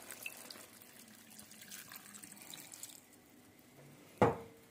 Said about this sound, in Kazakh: Енді үстіне суын құямыз